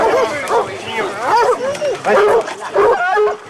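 A pack of hunting dogs bays and yelps in overlapping, excited bursts during a mounted hunt, loud and close, while people's voices mix into the noise.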